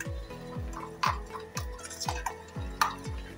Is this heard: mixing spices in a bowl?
yes